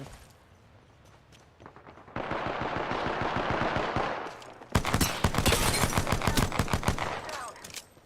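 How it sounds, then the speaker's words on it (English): Rapid automatic gunfire from the Apex Legends battle royale game, quieter bursts at first, then a loud sustained stream of shots and a second heavy volley up close, with no voices over it. "Getting shot at."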